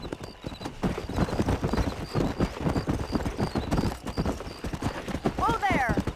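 Horse galloping with rhythmic clip-clop hoofbeats in Red Dead Redemption, steady and close throughout, with a brief whinny near the end, mixed under ongoing speech and game sound.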